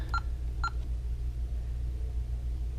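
A Honeywell Vista alarm keypad gives two short electronic beeps as digits are pressed, heard over a steady low background rumble.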